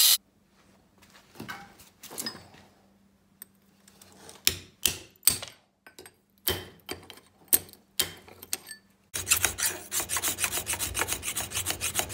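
A dull hand file rasps against hickory handle scales in a series of separate, uneven strokes, then switches to a fast, continuous scraping run near the end. The sound is close and there is no talking.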